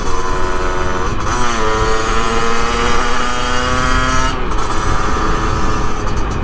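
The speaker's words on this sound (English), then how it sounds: "I do like this bike, even though it's very underpowered." An underpowered 50cc motorbike buzzes steadily along rural Sussex roads, its small engine loud and close, pitch climbing through the gears with brief dips between shifts.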